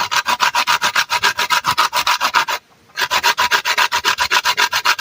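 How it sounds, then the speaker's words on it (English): A whole nutmeg is rasped briskly on a grater outdoors in the Jamaican countryside for porridge: loud, close, evenly paced scraping strokes that pause briefly before resuming. "Get some nutmeg grater here now."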